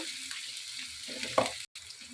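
Onions frying in a pan with a little salt, a soft, steady sizzle broken by a few stirring scrapes and one brief dropout.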